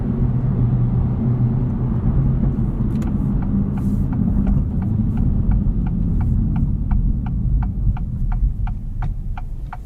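A 2024 Acura Integra Type S heard from inside the cabin while driving, with a steady, loud, low engine and road drone and a faint buzzy hum. A regular ticking pulse enters partway through and keeps going to the end.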